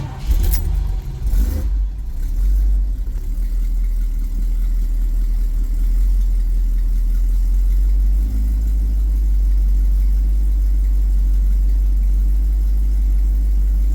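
A 1971 Ford Mustang with a 351 Cleveland V8 and an unhooked choke cold-starts with a brief crank and catch, then settles into a loud, steady, deep idle that rumbles close by for the rest of the stretch.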